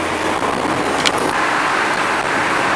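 A Honda Civic passing on a road, a steady broadband roar of tyres and engine with a brief swell near the middle, close by and alone without talk.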